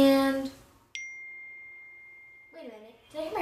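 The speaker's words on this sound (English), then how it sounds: "phone ring? Let me go check." A phone rings indoors with a single sustained electronic tone lasting about a second and a half, clear but moderate in level, with a voice talking just before and after it.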